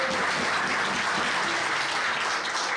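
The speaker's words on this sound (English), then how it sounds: "So he and Anthony Stone, big round of applause for both competitors." Crowd applause at a wrestling event, a dense, even wash of clapping throughout, fairly faint and without talk.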